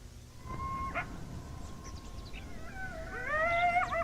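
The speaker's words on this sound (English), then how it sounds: "Coyote howls, okay." Coyotes give thin, wavering howls and yips, starting with a lone steady tone and rising into overlapping sliding cries toward the end, fairly distant over a low rumbling background.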